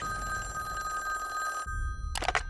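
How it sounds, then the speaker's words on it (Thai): An old-style telephone bell ringing in a Ghostbusters movie trailer, a sustained metallic trill that cuts off, followed by a brief burst of another ring after a short pause. "ครูประสันได้ตัดสินใจโทรไปตามเบอร์โทรศัพท์เก่าของ Ghostbuster"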